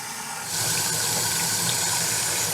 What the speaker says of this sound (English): We want to get the hottest water we could possibly get out of our tap here.